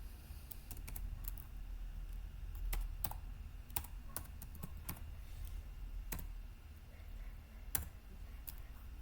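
Computer keyboard typing in Notepad, a series of light close clicks and taps at an uneven pace, some keys struck harder, in a quiet room without speech.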